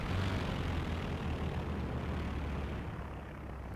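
Military aircraft in Company of Heroes 2 drone overhead as a broad, steady engine roar that slowly fades, with no voices over it.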